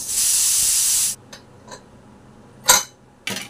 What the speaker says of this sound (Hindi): तो यहाँ मैंने कुकर की हवा निकाल दी हूँ